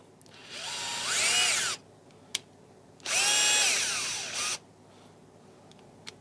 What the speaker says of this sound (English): But yeah, let's get back to this drill.